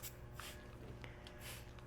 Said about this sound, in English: I have my Clonex mist here. So I'm going to just mist each root system.